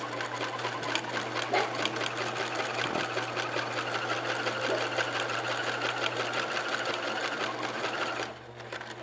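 A sewing machine runs steadily as it stitches fabric for a homemade juggling ball, a continuous close whirring rattle that stops just before the end.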